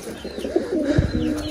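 A domestic pigeon coos close by in soft, rolling low calls, a few throaty phrases repeated in quick succession with no talk over them.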